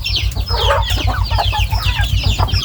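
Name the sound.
Thai native chickens clucking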